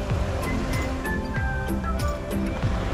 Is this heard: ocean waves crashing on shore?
yes